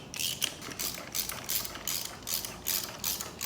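Hand ratchet snugging down engine gasket bolts in a garage, a steady run of quick, close metallic clicks in short bursts with brief pauses, alone with no talk.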